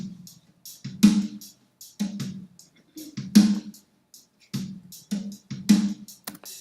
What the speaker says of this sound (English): The first one is stereo drums, and it starts out and it sounds like this.